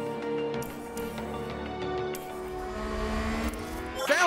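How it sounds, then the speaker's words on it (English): Race car engines roar steadily in the F1 Manager racing game, a continuous loud drone that swells near the end with a sharp, rising screech as a car spins out. "Sounds like a spin."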